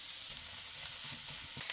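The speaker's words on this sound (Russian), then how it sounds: "Пока жарятся грибы" Sliced mushrooms frying in a preheated pan, giving off their liquid: a steady, close, even sizzle with soft crackle, no talking.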